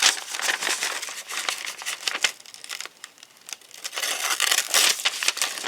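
A small folding pocket knife with yellow scales and a dull blade rips and tears through material rather than slicing it cleanly, giving a continuous, close, crinkly tearing noise with uneven bursts.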